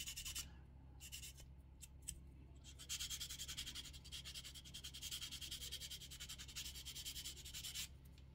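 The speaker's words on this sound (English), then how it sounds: "The sanding stick is pretty much almost worn out." Close, fine scratchy rubbing strokes repeat in quick bursts, a worn sanding stick worked back and forth against a hard plastic scale-model part, quiet and steady.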